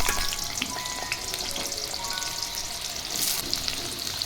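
Chunks of taro and potato fry in hot oil in a wok, a steady, close crackling sizzle with small pops throughout and no voices.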